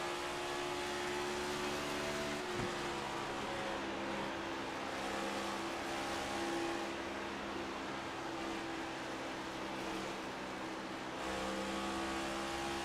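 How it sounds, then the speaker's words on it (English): Race car engines drone steadily in a racing video game at Darlington Speedway, a continuous mechanical hum with tonal engine whine holding near-constant pitch throughout, no talk. "So Dwayne MacArthur, I'm not sure if you can hear the engine notes or not."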